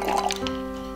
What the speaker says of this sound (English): you just wanna pour it into a glass